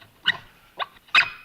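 A dog gives three short, sharp barks or yips with brief gaps between them, loud and fairly close in an indoor scene.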